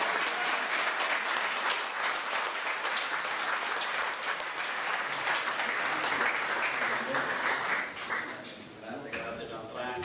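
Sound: audience applause after a political speech

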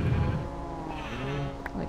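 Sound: sheep bleating in Minecraft video game

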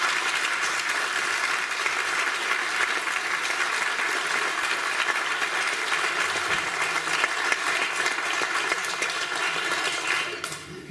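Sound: audience applause for the girls' trio

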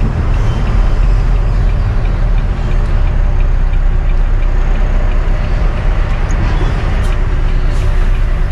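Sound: traffic jam, car and truck engines idling

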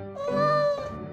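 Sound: cat meowing

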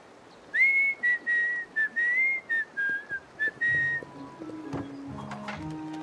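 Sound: person whistling

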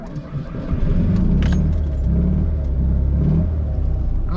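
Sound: car engine starting up

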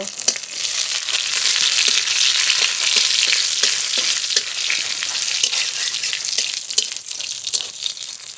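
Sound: dry red chilies and whole cumin frying in oil

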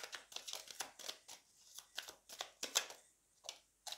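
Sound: drawing a tarot card from the deck

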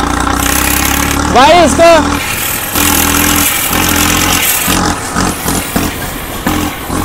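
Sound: modified tractor engine idling

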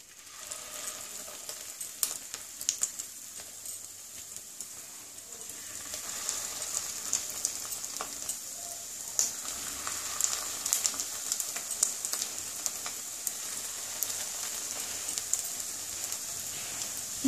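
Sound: fish roe fritters (macher dimer bora) frying in hot oil

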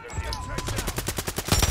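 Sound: gunfire in Call of Duty Warzone 3, video game

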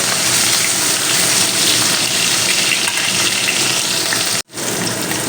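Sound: fish frying in oil in a wok

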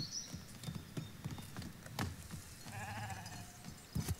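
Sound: sheep bleating in video game Foundation

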